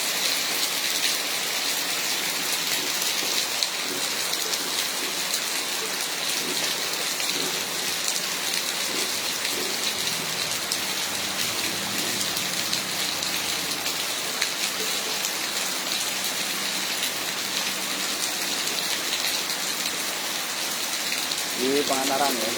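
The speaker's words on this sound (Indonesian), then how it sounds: "kondisi hujan deras ya terjadi di wilayah kawasan Pangandaran yang disertai juga angin kencang ya" Heavy rain pours steadily in Pangandaran, West Java, with strong wind, a dense unbroken hiss of downpour on surfaces that holds at the same loud level throughout with no talk.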